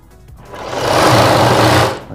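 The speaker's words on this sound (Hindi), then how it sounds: "यहाँ पे छोड़ के इस कपड़े पे हमें सिलाई लगानी है।" A sewing machine stitches fabric for a Rajputi dress magji in a loud, rapid burst that swells up, runs for about a second and then slows to a stop.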